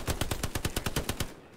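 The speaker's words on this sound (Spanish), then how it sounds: "Cuidado, cuidado. Disparos por la izquierda." A rapid burst of machine gun fire in the World War II shooter game Hell Let Loose, about ten evenly spaced loud shots in quick succession, then a sudden stop.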